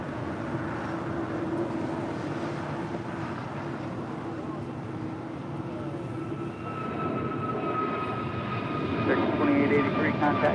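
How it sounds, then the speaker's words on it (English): Air Canada airliner taking off from LAX runway 25 right, a distant broad roar that builds slowly toward the end, with radio-style talk over it. "Clear for takeoff, runway 25 right, full length"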